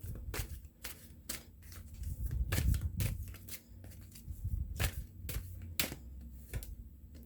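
Tarot cards are shuffled by hand close up in a quiet room, giving a run of crisp, irregular riffles and snaps with short pauses between them.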